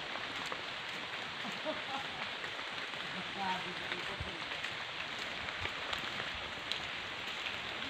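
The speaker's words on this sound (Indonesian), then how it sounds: "Hujan-hujan ini." Steady rain hisses down over the whole stretch, a dense even patter with occasional soft knocks and faint background sounds.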